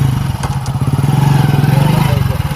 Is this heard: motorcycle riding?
yes